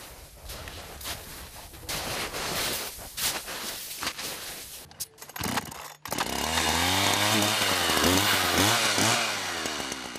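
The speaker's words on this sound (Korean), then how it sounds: "고른 나무의 위치를 잡으면 곧바로 톱질이 시작된다." A chainsaw roars and strains as it bites into a tree in deep winter snow in Russia, first muffled and uneven, then revving loud and steady with rising and falling pitch.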